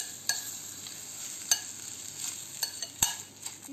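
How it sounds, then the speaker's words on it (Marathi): A spoon stirring a hot curry-leaf tempering into a sweet and sour raw mango mixture in a pan, a soft sizzle with a few distinct scrapes and clicks, close up and without talk. "आता हा आपण याच्यामध्ये मिक्स करायचा आहे, छानसं मिक्स करून घ्यायचं।"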